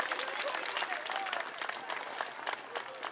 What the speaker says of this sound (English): How about a big round of applause for our wonderful, outstanding fourth graders.